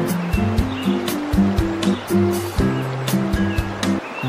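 Yerravaram waterfall near Lambasingi roars in a steady broad rush of falling water, heard close, with other tonal sounds layered on top of the constant water.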